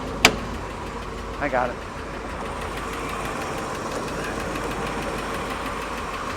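A 427 cubic inch, 390 horsepower solid-lifter V8 idles steadily near the open hood, a continuous rumble running under brief talk and a sharp click early on.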